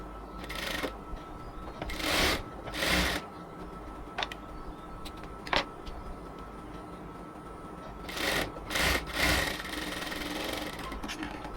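A sewing machine runs in short stitching bursts through cotton dress fabric, several quick rattling runs separated by pauses with small handling clicks, close and fairly loud.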